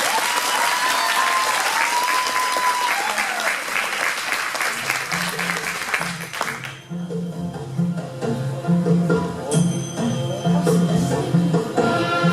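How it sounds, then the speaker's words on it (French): An indoor crowd at a cosplay parade in Dijon breaks into dense applause, loud and sustained, then thinning as music with a steady beat comes up beneath it. "Allez, on peut les applaudir."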